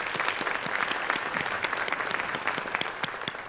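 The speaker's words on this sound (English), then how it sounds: "let's give them both a round of applause for all their efforts" Dense, steady applause from a conference audience at a health care summit, many hands clapping continuously at even loudness throughout.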